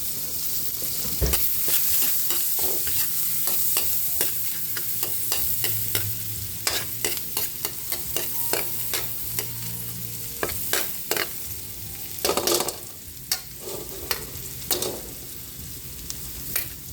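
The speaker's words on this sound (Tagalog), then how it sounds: "Magigisa na po tayo para sa ating pininyan." Garlic and butter sautéing in a pan for pininyahang manok, a steady close sizzle broken by frequent scraping stirs and clinks of a utensil against the pan, with no talk.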